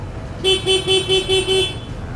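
A Denso horn on a Honda PCX160 scooter honks six short, evenly spaced beeps in quick succession, loud and close.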